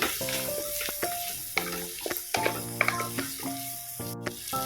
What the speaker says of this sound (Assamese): কাজুখিনি দিও ভাজিম